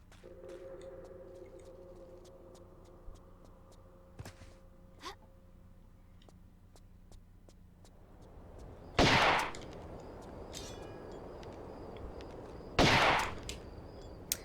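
Two loud, sharp shotgun blasts from the Tomb Raider level editor game, spaced a few seconds apart, over a low ambient game background with faint clicks and small thuds.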